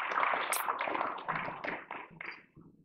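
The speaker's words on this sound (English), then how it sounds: "Give Nancy a big applause." Church congregation clapping after a service announcement, a brief burst of scattered applause that thins out and fades within a few seconds.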